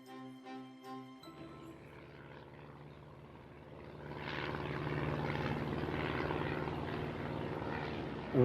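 A propeller airplane in flight drones steadily, starting quiet beneath a few soft musical tones and growing louder and fuller as the engine hum swells toward the end.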